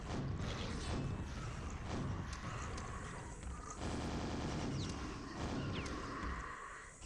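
Gunfire aimed at enemies in Quake rattles steadily under a loud, dense game mix with mechanical clanks, easing off toward the end.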